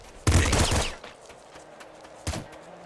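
Gunfire from the video game Nuclear Throne erupts in a dense burst of rapid shots, then a single sharp blast follows after a pause, loud against faint background.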